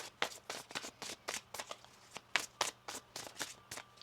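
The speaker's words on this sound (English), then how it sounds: "One more shuffle." Quick crisp riffling and tapping of tarot cards being shuffled, a run of short bursts in an uneven rhythm, close and fairly soft.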